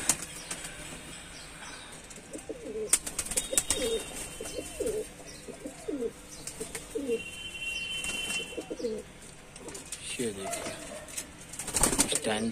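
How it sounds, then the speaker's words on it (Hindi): Home-bred pigeons kept in a loft coo repeatedly in soft rhythmic phrases, with occasional wing flutters and background noise. "ये इन्हीं कबूतरों के बच्चे निकले हुए हैं"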